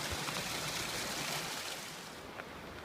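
A river flows on Mount Rainier's Wonderland Trail near Carbon Glacier, a soft, steady rushing and trickling at moderate distance that fades slightly toward the end.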